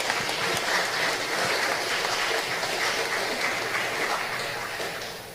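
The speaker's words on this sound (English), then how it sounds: "I ask you to join me in a round of applause for their beautiful music" An evening celebration crowd applauds a military band, the Belize Defense Force Band, with a soft, even patter of many hands heard from a distance that thins slightly toward the end.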